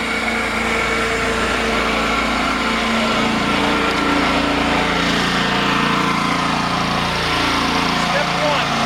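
An Amtex Prowler 14 HP blower engine runs steadily and loudly nearby, a constant droning roar with no letup.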